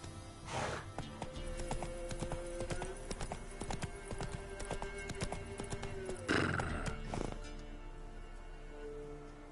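Roach the horse in The Witcher 3 gallops with a steady, rapid clip-clop of hooves throughout, letting out two loud whinnies, one near the start and one toward the end.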